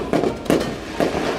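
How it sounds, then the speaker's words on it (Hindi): Pop-pop firecrackers being burst, three sharp, loud snaps spaced about half a second apart, each with a brief crackling tail, nearby and without talk. "पोपो पटाखे, ये देख ऐसे फोड़ते हैं इसे।"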